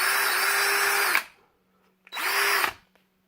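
A DEWALT 20V MAX compact cordless drill whirs in two separate runs, a longer burst and then a shorter one. Each has a steady motor whine that spins down at the end, with near-silence in between.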